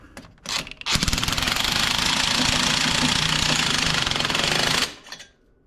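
Power tool, likely an impact gun, tightening the exhaust muffler bolts on an Autozam AZ-1 during a catalyst-to-straight-pipe swap: a loud, continuous rapid hammering burst of about four seconds, close by, preceded by brief short taps.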